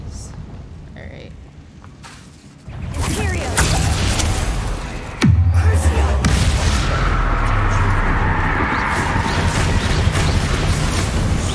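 A Confringo fire spell blast in Hogwarts Legacy, a sudden loud burst followed by a sustained roaring, crackling rumble amid game ambience, with some voice nearby.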